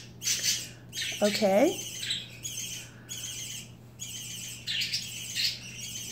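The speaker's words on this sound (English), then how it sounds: "My birds are making a really cool noise." Pet birds squawk in repeated harsh bursts with short pauses, one giving a wavering whistled call; a person speaks briefly.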